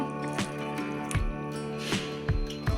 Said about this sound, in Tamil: இதை தண்ணி ஊற்றி வாஷ் பண்ணி